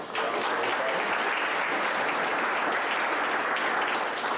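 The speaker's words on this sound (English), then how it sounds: "Do we have a round of applause?" A civic audience at Montgomery County's 2019 State of the County event gives a round of applause, a full and steady burst of many hands that starts abruptly and stays loud throughout.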